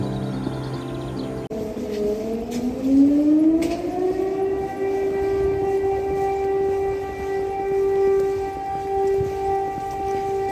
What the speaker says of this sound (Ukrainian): Повітряна тривога по всій країні